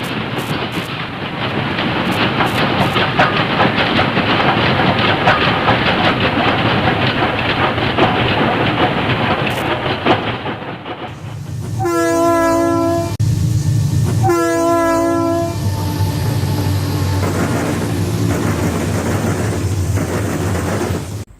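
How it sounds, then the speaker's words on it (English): A loud Norfolk Southern freight train roars past continuously, then its horn blares in two long blasts as the rumble carries on. "another NS train rushes past"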